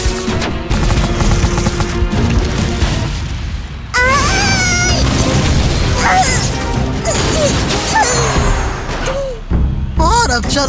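Cartoon combat effects with crashing grenade blasts and bursts of gunfire, loud and close, broken by pauses, while animated characters shout and talk over the action.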